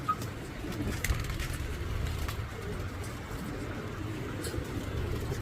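Pigeons in a loft coo softly and repeatedly against a low background hum, the calls faint and a little distant with a few higher chirps mixed in.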